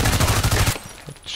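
A Magpul PDR-C submachine gun fires a fast, loud, close burst of automatic rounds in the shooter game Contract Wars, then the fire cuts off into quieter game ambience.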